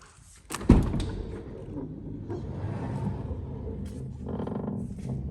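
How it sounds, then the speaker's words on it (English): Side loading door on a 2025 Ford Transit Custom crew van with soft close, a sharp thud as it shuts, followed by a low rumbling hum. "twin side loading doors with soft close"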